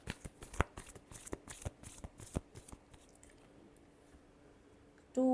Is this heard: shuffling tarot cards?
yes